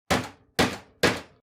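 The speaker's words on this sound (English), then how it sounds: "Suddenly, one of the older men stood up and he tapped on the table." A man knocks on a wooden table three times in an even rhythm, each tap sharp and close, with no voices.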